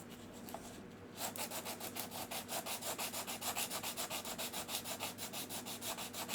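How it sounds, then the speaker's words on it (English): A sanding stick scrubs over cured resin putty on a 3D-printed part, producing quiet, rhythmic back-and-forth rasping strokes up close after a brief pause, steady and evenly spaced with no talking. "I'll grab my sanding stick here"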